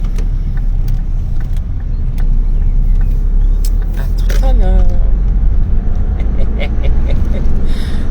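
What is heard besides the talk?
inside a moving car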